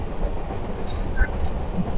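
Hazara Express train running on the tracks at speed, a steady close rumbling roar with faint clicks and a brief squeal over the rolling noise.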